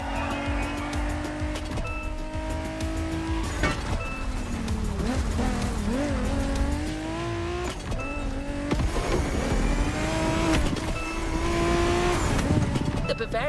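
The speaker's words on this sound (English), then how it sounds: "We have prepared a classic for you from a very famous German brand, the BMW Z4" A BMW Z4 M40i roadster drives in the racing game The Crew Motorfest, its engine revving and shifting through gears with rising and falling pitch, brief tire squeals, loud and continuous throughout.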